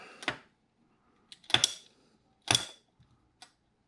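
A few sharp, separate clicks from a ratchet being tightened down on a RockShox Indy or Judy fork elastomer setup, close and dry with quiet gaps between them.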